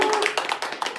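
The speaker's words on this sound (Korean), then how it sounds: "우리 먼저 박수로 시작하겠습니다." A small group applauds to open a class-sharing session for a first-grade Korean lesson, a brief patter of nearby clapping with irregular hand claps and faint talk beneath.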